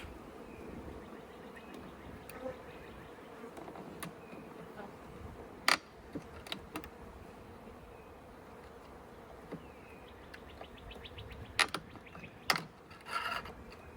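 Honey bees buzz steadily around a horizontal hive during a package install, a low continuous drone with scattered sharp knocks and clicks from the hive work.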